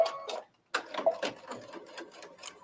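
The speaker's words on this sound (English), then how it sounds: "We're just sewing the seam." Sewing machine running a straight-stitch seam on black fabric at 2.5 stitch length, a quiet rapid mechanical ticking in short bursts with a brief pause early on.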